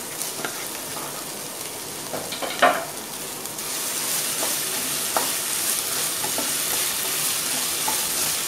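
Tomatoes sautéing in a pan for vegetable kurma, a steady close sizzle with occasional stirring scrapes and clinks of a utensil against the pan, no talk.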